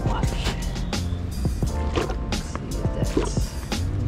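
A Harbor Freight hand-operated fluid transfer pump moving oil, giving a series of rhythmic, close squishing and sloshing strokes about every half second, steady and fairly loud throughout.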